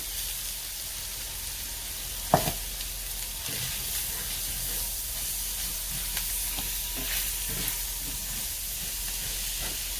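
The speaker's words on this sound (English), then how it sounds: "All right, we're gonna add our rice." Rinsed rice tipped into a pot of hot melted butter, a steady sizzling hiss with a sharp splash-like burst early on and faint stirring clicks after.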